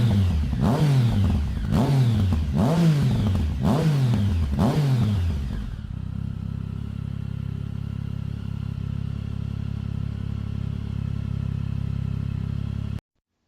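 A 2009 Triumph Triple motorcycle with a modified exhaust revs in a series of rhythmic, loud bursts, then settles into a low steady idle rumble until it cuts off.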